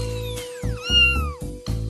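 A cartoon cat lets out a couple of drawn-out, rising and falling meows, close and loud, over a steady electronic tone with sharp pulses, no talk.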